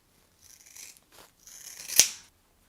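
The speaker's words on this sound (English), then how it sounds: "So I am going to cut this into a half and pull the ends" Scissors cut through a bundle of pre-stretched hair extensions, giving a few soft slicing snips that end in one crisp, close snap, with no talking.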